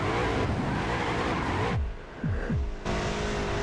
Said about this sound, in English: My car just randomly started sliding in the middle of that.